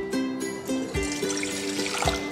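Water is poured and measured into a container for sourdough breadsticks, close trickling and splashing in short uneven bursts with bright ringing tones from the vessel.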